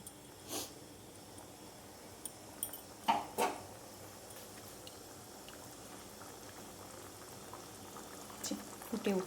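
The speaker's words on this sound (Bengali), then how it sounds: "ফুটে উঠছে তরকারিটা, যেহেতু গরম জল ছিল ওই জন্য তাড়াতাড়ি ফুটে গেল।" Vegetable curry coming to a boil in a pot of lightly warmed water, a faint low bubbling simmer with a few soft knocks and clatters scattered throughout.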